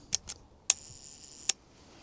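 Three crisp mechanical shutter clicks from a panoramic film camera being tested, close and isolated in a quiet room, with a faint high ringing after one of them.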